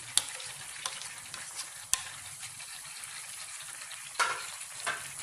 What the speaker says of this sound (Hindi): टमाटर ऐड करके मैं इसको मिक्स करूँगी